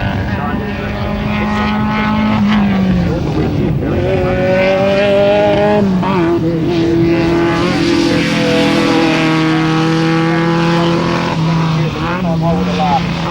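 Race car at the 1994 Australian Hillclimb Championships at Collingrove, its engine loud and close, revving and shifting through rising and falling pitch sweeps as it climbs, with a commentator talking over it.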